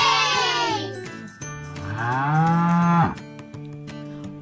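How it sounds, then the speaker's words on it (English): A cow moos in a long, loud, close call with a rising, drawn-out tone, followed by a light jingling of small bells near the end. "It's a cow!"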